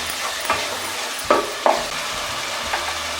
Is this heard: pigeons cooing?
no